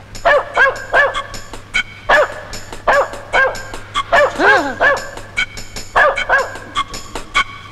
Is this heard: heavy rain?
no